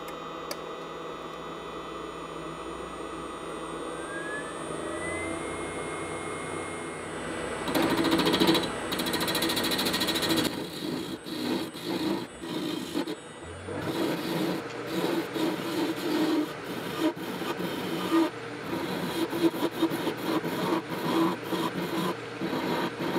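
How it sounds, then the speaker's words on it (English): A lathe turning a match down into a cylinder for a resin test: steady mechanical whir with rasping, scraping cuts that grow louder and busier partway through, continuing close and without speech. "I'm going to turn it into a cylinder on the lathe and then polish it up."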